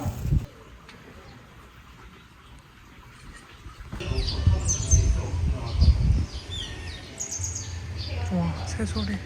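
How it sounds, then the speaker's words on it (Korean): Small birds chirp and tweet in the background at Darangi Village in Namhae, South Korea, with bursts of rustling and low handling noise growing louder partway through. "와, 새소리."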